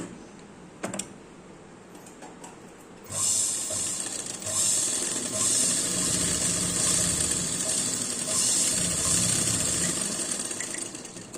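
Sewing machine stitching a pant seam, a couple of faint clicks at first, then a loud close mechanical whir with rhythmic needle chatter running steadily to the end, no talking.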